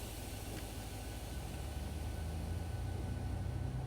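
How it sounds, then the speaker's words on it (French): Low diesel engine drone of a CC 72000 locomotive in Train Simulator, a steady, loud rumble that holds evenly throughout with faint broadband hiss above it. "On va ouvrir la porte pour écouter un peu le son du moteur."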